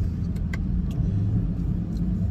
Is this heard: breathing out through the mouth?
no